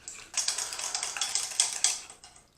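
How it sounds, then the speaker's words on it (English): A whisk stirring coconut cream with other ice cream ingredients in a bowl, quick rhythmic metallic clinks and scrapes in close, fairly loud strokes, alone with no talk. "We're just going to combine these really quick with a whisk"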